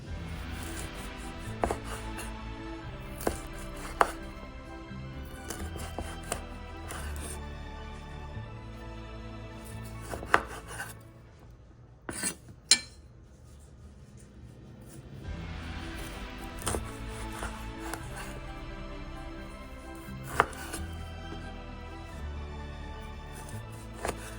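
Knife cutting limes on a board, a run of close, crisp chopping strokes that stops briefly in the middle and then resumes, no talking.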